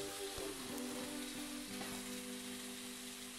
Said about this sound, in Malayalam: തേങ്ങാപ്പീര ഇട്ട് നന്നായിട്ടൊന്ന് വഴന്നു വരുമ്പം